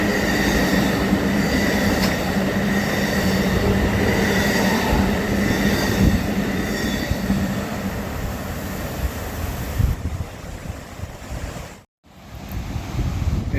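An Amtrak Coast Starlight passenger train passes through Oregon City in the rain, a loud, close rolling rumble with rhythmic wheel clatter and squeal that gradually fades, ending with a brief dropout.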